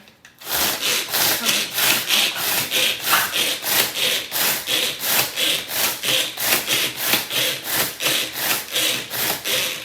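Graham crackers for s'mores cups being ground up in a rhythmic, steady grinding and crunching, loud and close, with regular strokes repeating about twice a second throughout.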